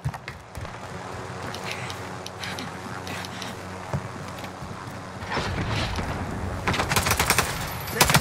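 Gunfire in a first-person shooter video game, with sharp bursts of shots cracking out intermittently over a steady background, growing denser and louder toward the end, while players talk over the action.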